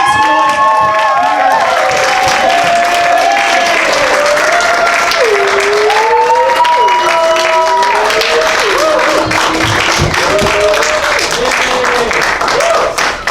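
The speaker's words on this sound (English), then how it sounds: "And give a round of applause." Loud audience applause and crowd noise at a live dad-joke game show, continuous clapping with cheering and voices talking and calling over it throughout.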